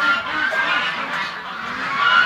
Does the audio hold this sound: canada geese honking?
yes